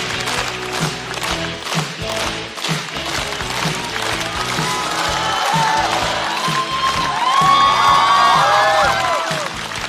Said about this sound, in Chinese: 掌声有请张慧